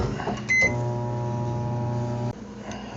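A microwave oven heating dog food with cheese hums steadily for about two seconds after a short beep, then stops, heard close and alone.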